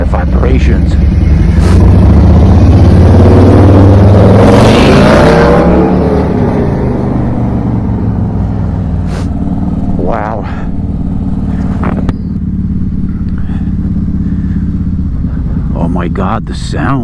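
Harley-Davidson motorcycle with a Stage 2 107 engine rumbling deep and loud while riding, swelling in a strong rev early on then settling into a steady low throb, with someone talking over it.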